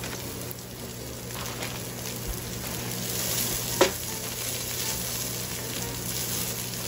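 Cabbage and carrots sweat in a hot pan for yakisoba, giving a steady, even sizzle throughout with one brief clack partway through and no talking.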